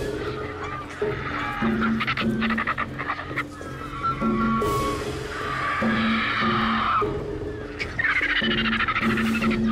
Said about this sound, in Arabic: تتشاجر الطيور الواصلة حديثاً مباشرة مع الطيور التي أكلت سلفاً